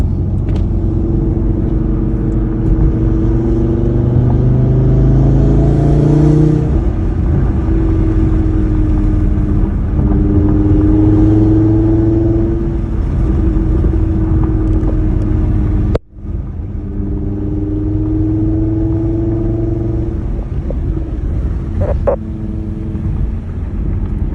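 A 2018 Audi TT RS five-cylinder engine drones steadily while cruising at about 39 mph with the windows down, loud and close with rising and falling pitch as it gently accelerates, and one sharp thump partway through.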